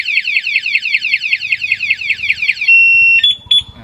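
A Honda Wave 110i motorcycle anti-theft alarm wails loudly in fast repeating warbling sweeps, then shifts to a steady high beep with a couple of chirps at the end.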